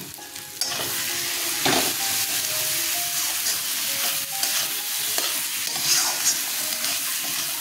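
Spice paste for mutton curry with potato sautéing in hot oil, a steady loud sizzle and crackle with the scrape and clink of a spoon stirring through the pan at close range.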